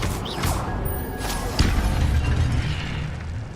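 An Incendio fire spell fires in a wizarding video game: a whooshing, crackling burst with a sharp impact pop partway through, followed by a fading rumble.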